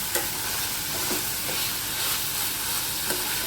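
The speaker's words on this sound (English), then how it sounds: "That's why I'm frying the onions." Onions frying for mackerel (bangda) fish cutlets: a steady sizzle fills the pan, broken by a few soft stirring scrapes, moderately close and with no talk.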